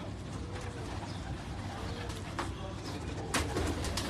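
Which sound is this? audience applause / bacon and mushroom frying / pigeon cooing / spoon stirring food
pigeon cooing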